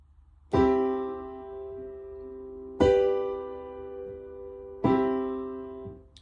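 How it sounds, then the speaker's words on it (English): Three sustained piano chords forming a perfect cadence, struck one after another at an even, unhurried pace, each ringing out and slowly decaying before the next, with no talking. "The perfect cadence, by far the easiest to recognize"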